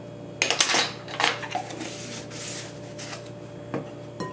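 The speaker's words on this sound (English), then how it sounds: "Just mix this." Naan dough with baking powder being mixed in a bowl, with soft rubbing and scraping strokes and a few light clinks, quiet and irregular.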